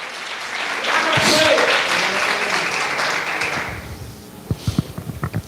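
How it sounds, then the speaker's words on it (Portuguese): Church congregation giving a round of applause during a sermon, a dense wash of clapping that swells and then thins into a few scattered claps near the end, with speech mixed in. "Muito bonita, muito alegre as suas palmas."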